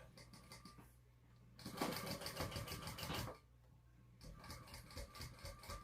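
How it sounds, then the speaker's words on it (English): A sewing machine bastes a purse seam at a small seam allowance, running in two quiet bursts of rapid, even stitching separated by pauses, close but faint, with no talking. "So I'm just basting at an 1/8 of an inch seam allowance from the bottom."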